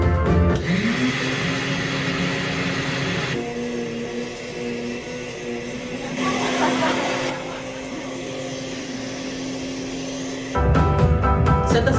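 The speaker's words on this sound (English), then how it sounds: "place it in a blender with garlic and tomato" An electric blender purees tomato chunks and garlic, its motor spinning up with a rising whine and then holding a loud, steady roar with shifts in pitch and intensity across several seconds.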